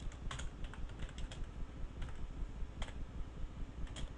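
Fingers type on a computer keyboard entering a date into a spreadsheet, a rapid run of light, close key clicks over a low steady room hum.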